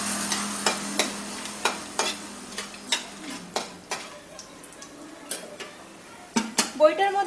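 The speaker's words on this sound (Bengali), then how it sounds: "এবারে আমি এই বড়িগুলোকে ভেজে নিচ্ছি, বড়িগুলোকে একটু ভেঙে নিয়েছি" Halved lentil dumplings (bori) fry in mustard oil in a wok: a steady sizzle runs under a regular series of loud, close spatula taps and scrapes against the pan.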